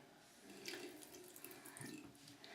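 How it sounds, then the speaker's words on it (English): Water running from a tap onto a makeup brush being rinsed in a sink, a steady close splashing stream with small surges and drips throughout. "And you can go ahead and add a little bit of water."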